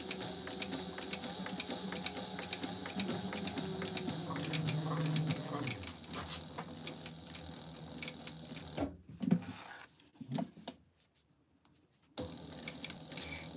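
Sewing machine top stitching an eighth-inch seam around a fabric ID wallet frame with foam interfacing, a steady rapid whirring that runs continuously, then stops and starts in short bursts, with someone talking throughout.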